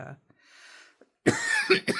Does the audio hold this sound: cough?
yes